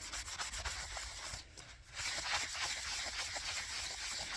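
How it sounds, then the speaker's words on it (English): A Biax 7ELM power scraper blind-scrapes a metal surface, giving a steady, close, raspy rubbing with slight surges in intensity throughout. "And that is blind scraping."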